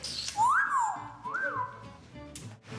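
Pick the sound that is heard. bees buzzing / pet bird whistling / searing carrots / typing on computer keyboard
pet bird whistling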